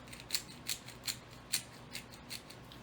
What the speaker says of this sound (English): I'm going to grind up a little bit of pepper here